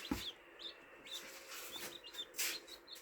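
Small Cochin chicks peep in a brooding coop, giving soft, high, thin chirps repeated at irregular intervals, quiet and close with faint farmyard background.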